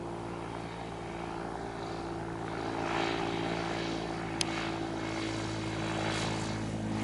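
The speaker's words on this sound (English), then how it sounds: "Watch as the tailwheel touches just a split second before the mains for a nice 3-point landing." A small tailwheel airplane lands on a 3,000-foot runway with a steady, droning propeller engine hum throughout and a single brief sharp sound partway through.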